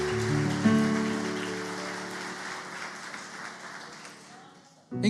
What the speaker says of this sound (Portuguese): Dá uma salva de palmas, Senhor, aí.